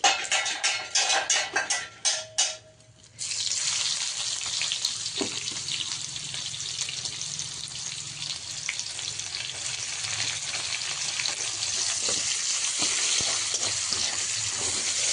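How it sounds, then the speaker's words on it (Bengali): Onions fry with cumin in a pan, opening with several sharp spatter bursts and then settling into a continuous, close sizzle with occasional stirring taps. "পেঁয়াজগুলো একটু ভাজা হোক"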